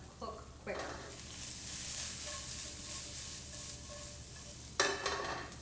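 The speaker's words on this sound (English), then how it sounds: "I have some shallots in my pan here. I'm just going to hit them with a little bit of salt." Shallots salted in a pan sizzle steadily throughout, with a soft broadband hiss and a few louder stirring scrapes near the start and end.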